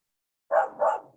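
Indoor dogs give two quick, close barks in succession, reacting to someone at the door, with no other sound around them.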